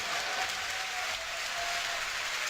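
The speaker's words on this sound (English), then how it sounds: "The crowd excited to see the MKB pick up" A crowd at a Dota 2 esports match cheers and claps in a dense, steady roar of noise that holds evenly throughout without clear breaks.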